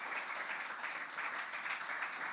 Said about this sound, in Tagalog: Sige po muli, malakas sa palakpak para sa Panginoon.